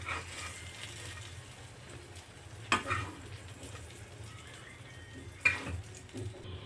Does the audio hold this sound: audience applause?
no